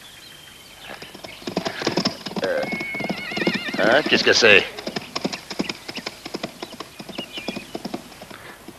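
Horses clip-clop in a rapid, uneven rhythm throughout, with a loud whinny rising midway as the animals are stolen in a Western film scene; a voice speaks briefly over the hooves.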